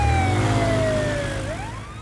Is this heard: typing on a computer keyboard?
no